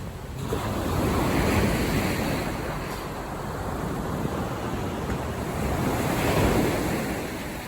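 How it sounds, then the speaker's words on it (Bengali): Large waves roll in at Teluk Bahang Beach in Penang, a loud, continuous surf rush swelling and easing in slow surges, with wind buffeting the microphone and no voices. "পানির ঢেউটা বড় বাড়তেছে।"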